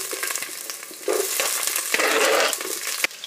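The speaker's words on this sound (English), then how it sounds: "it says to saute it for about 10 minutes until it's all softened" Poblano peppers, onions and jalapeños hit a hot pan and crackle into a loud, dense sizzle, with quick stirring scrapes and a sharp surge of frying about a second in.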